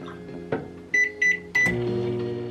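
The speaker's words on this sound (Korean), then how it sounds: "전자레인지에 약간 돌려서 차갑지 않게 마셔요" Microwave oven running to warm a glass of drinking water, with a steady hum, a few sharp beeps and a door clunk, heard up close with no talking.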